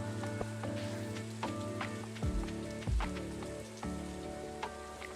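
Rain falls steadily in the farming game Stardew Valley, a soft continuous patter running under gentle in-game music with repeating melodic notes.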